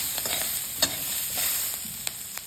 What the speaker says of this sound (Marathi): म्हणजे अशा प्रकारे आपण भाज्या भाजून घ्यायच्या.